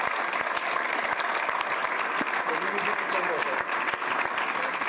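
An audience applauds in a dense, sustained burst of many hands clapping at a basketball-related talk, steady and fairly loud throughout with no pause, and faint voices mixed into the crowd.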